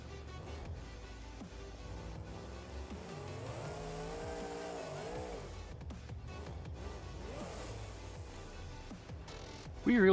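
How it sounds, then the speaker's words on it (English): Turbocharged car in BeamNG.drive, its engine droning and rising in pitch through a steady rev, with tire noise underneath and a louder burst at the very end. No voices. "the turbos have a way better sound to them now"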